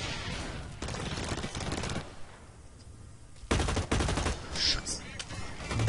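Bursts of automatic gunfire from the shooter game Blacklight: Retribution rattle in rapid volleys separated by brief lulls, loud and close, with a voice talking over parts of it.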